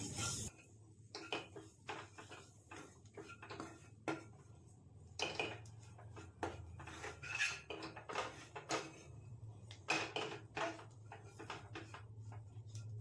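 A spoon stirring and scraping masala with Kashmiri chilli powder in a pan, irregular clinks and scrapes of metal on metal, close and quiet over a low background hum.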